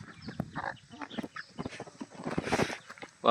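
Several chickens cluck and squawk in short, scrappy bursts at close range, a noisy squabble over food with brief pauses between calls.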